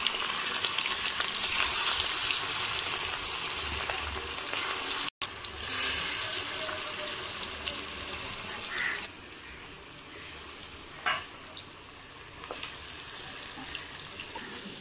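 Fish frying in hot oil in a home kitchen pan, a steady close crackling sizzle that briefly cuts out, then continues more softly with occasional sharp pops and spatters; no talking.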